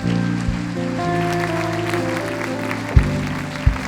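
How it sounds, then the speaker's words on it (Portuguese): A church congregation claps in continuous applause during a worship service, fairly close, with a few sharp thumps and louder bursts near the end. "dê um aplauso a Ele"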